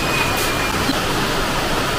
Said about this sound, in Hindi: आज की बारिश भी बहुत ज़बरदस्त